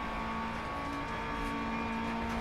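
A Lancia Fulvia rally car in Dirt Rally, on a Greek stage, its weak engine droning steadily as it labours uphill, a loud, continuous strained hum with no pauses.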